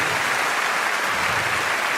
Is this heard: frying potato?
no